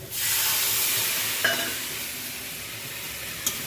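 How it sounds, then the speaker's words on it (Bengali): Paneer curry with spices frying in a pan after water is added, a loud steady sizzle and hiss close by, with a couple of sharp spoon clinks against the pan as it is stirred. "জল একটু করে নাড়াচাড়া করে কষিয়ে নেবো"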